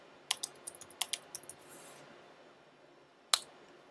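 A root password typed on a computer keyboard during an ESXi 6.0 install: a quick run of crisp, close keystrokes, then a quiet gap and one final sharp key press.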